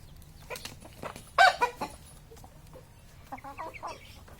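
Healthy backyard chickens cluck in short, scattered bursts, with one louder squawk near the middle and softer clucks trailing off later, over low ambient background noise.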